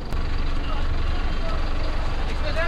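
A Shyamoli Paribahan Volvo coach on the Digha to Kolkata road gives a steady, loud engine drone and road rumble from inside the cabin, with a voice speaking over it.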